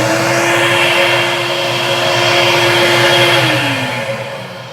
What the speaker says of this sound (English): It's going through our vacuum motor, has been blown out the back and basically prolonging the life of that vacuum motor.